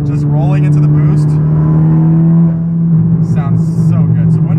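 A turbocharged Honda Civic Si held in third gear rolls into boost, its engine a steady, loud droning hum close by that dips briefly midway and then pulls on, with voices talking over it.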